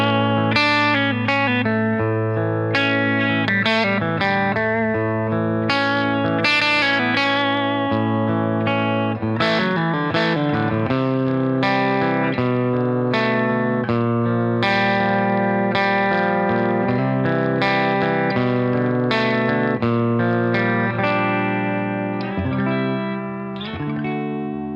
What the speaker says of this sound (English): let's hear how that sounds versus that EL34 flavor we had